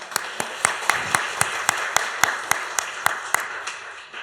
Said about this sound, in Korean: 박수 한번 쳐주십시다